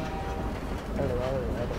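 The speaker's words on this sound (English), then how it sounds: "that's a train" A train in the video game Half-Life 2 rumbles past in a low, steady roll while a person talks over it.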